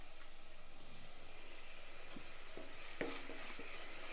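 Chopped tomatoes and curry leaves sautéing in a pan, a soft, faint sizzle with a few quiet stirring scrapes and a brief clink near the end.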